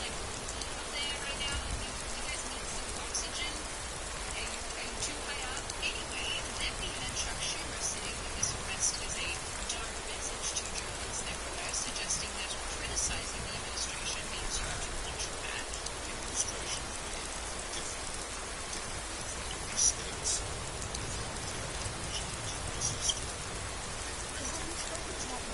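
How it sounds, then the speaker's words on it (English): Steady rain falls in Skyrim, a dense, even hiss of drops on surfaces running throughout at moderate level, with faint scattered patters and no other clear sounds. "Holy hell, it's raining."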